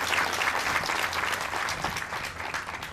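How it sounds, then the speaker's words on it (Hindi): An audience at a Hindi religious discourse claps hands in a dense, continuous burst that stays loud throughout and tapers slightly toward the end. "ताली बजा दो जो भोजन मिलेगा सबको।"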